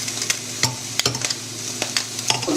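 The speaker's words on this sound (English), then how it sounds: "We're just keeping this cabbage on a simmer at the moment whilst we're working on that." Cabbage simmers in a pot while a spoon stirs it, leaving soft bubbling and sizzle under a string of sharp scraping and clinking taps against the pot, close and irregular.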